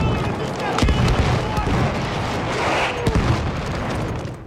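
Artillery strike explosions in a video game boom and pop repeatedly in a dense, continuous barrage, with sharper blasts standing out over a steady rumble while a voice talks throughout.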